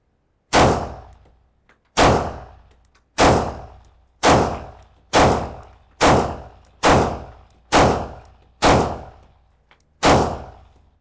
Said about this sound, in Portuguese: colocamos o primeiro cartucho na câmara, vamos ver como ela atira